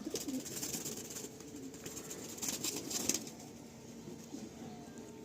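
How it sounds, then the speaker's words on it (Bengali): Seven-feather pigeons cooing softly and steadily through the clip, with a faint low murmur and occasional wing rustle nearby and no talking. "একদম 7 পরের পায়রার"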